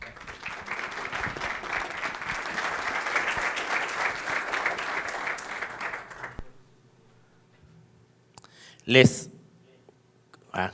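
Conference audience applauds to welcome a speaker at a talk on labour decisions for employers: about six seconds of dense, steady clapping that stops abruptly. Then comes a quiet room, a loud microphone knock near nine seconds and a voice at the end.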